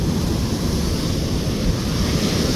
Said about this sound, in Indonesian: Nah kayak gini nih ombaknya